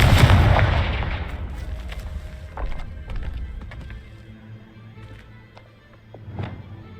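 A Confringo fire spell explodes in Hogwarts Legacy with a loud, booming blast that fades into a crackling tail, followed by scattered sharp impacts and thuds, with no talk.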